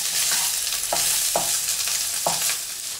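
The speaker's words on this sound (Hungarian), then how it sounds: "Elkezdett most már megpirulni a csirke, úgyhogy először belerakjuk a paprikát, még ezzel is 1-2 percet süthetjük majd" Chicken pieces and peppers sizzle steadily in a hot pan, with a constant fry hiss and a few sharp stirring scrapes at intervals, close and with no voices.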